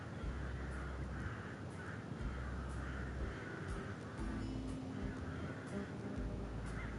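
Bird calls in a birdwatching video game, crow-like caws repeating at a steady pace over a constant hissing ambient background, fairly faint, with no talking.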